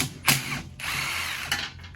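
A ratchet wrench backs bolts out of a Jeep, giving close, loud bursts of rapid ratcheting clicks separated by short pauses.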